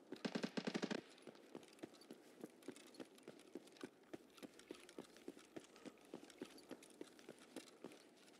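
A rapid, loud burst of automatic gunfire opens a firefight in Escape From Tarkov, then gives way to a long, steady series of quieter, evenly spaced thuds, with no talking.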